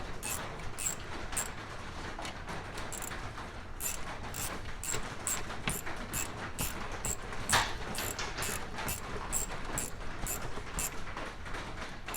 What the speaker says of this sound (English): my ratchet ought to work good for a while